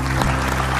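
Audience clapping during a televised Indonesian talk show, a short burst of steady, dense applause heard close with a low hum underneath.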